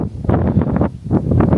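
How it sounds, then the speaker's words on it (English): Strong wind buffets a microphone on the exposed coast at Spurn, a loud low rumbling roar that surges and dips in gusts across the whole moment with no voices. "It's very, very windy."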